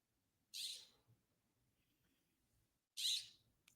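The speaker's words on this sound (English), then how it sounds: "You guys hear that bird squeaking outside my house?" Outside a house, a bird gives two short, high squeaking calls a few seconds apart, each a brief bright burst over near-silence, fairly faint and somewhat distant.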